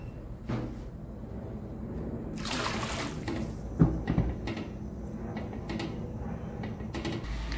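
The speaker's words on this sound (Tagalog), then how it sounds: "Dagdagan natin siya ng tubig." Water pours into a pan of sotanghon noodles being cooked as a gisado, a sustained splashing rush at close range beginning partway through, with light kitchen clatter and knocks around it.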